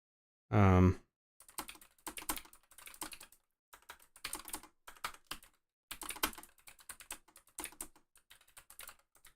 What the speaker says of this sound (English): I'm just typing out a question for a chat poll here